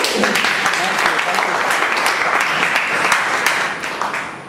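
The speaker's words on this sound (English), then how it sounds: "A huge round of applause for all of you." Loud, sustained applause from an audience at a school or community event, dense clapping filling the whole stretch and tapering slightly at the end, with some voices mixed in.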